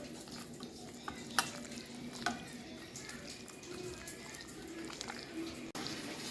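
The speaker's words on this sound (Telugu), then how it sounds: "ఇప్పుడు వీటన్నింటినీ బాగా కలిపి" Chicken biryani marinade is stirred together with curd in a bowl, giving faint, soft wet squelching and occasional scrapes and clinks of a utensil under low background noise.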